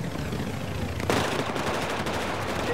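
Rifle fire in the video game Battlefield 4: a sharp shot rings out mid-clip, followed by rapid repeated gunfire with a quick rhythmic crackle over game background noise.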